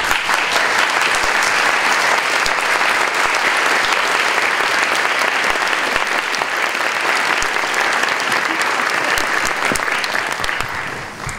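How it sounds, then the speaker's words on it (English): Sustained, dense applause from a ceremony audience at a December 2018 BSN nursing pinning ceremony, steady and loud throughout before tapering off at the very end. "please give them a round of applause."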